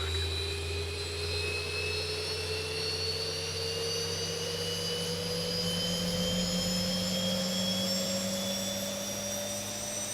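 Boeing 737 jet engine spooling up during a start in the X-Plane 12 simulator: a loud, steady turbine whine with several tones climbing slowly over a constant low rumble, with no talking.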